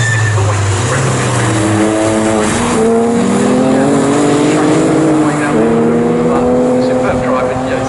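Porsche Boxster race cars in a packed field of around 32 cars roar past at Snetterton circuit, engines droning and shifting pitch as they head away from a corner, with a commentator talking over the loud, continuous engine noise.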